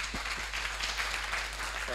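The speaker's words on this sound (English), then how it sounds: "Please give him a round of applause." Applause from a speaking-event audience welcoming a guest onto the stage runs as a steady, moderately loud wash of clapping under faint hum, and a voice begins to speak near the end.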